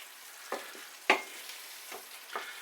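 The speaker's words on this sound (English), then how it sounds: "Give it a stir." Sliced loofah simmering lightly in a pot, stirred with a utensil giving a few soft scrapes and clinks over a faint bubbling background, no voices.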